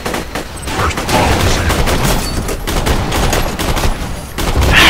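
Sustained rapid assault rifle fire from a Borderlands 2 firefight, loud and dense bursts of shots running continuously with heavy echoing blasts.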